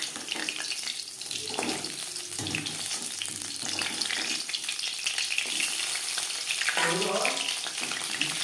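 Aar fish and fish heads frying in oil, a continuous sizzle mixed with kitchen clatter and what sounds like running water, with brief voice-like bursts.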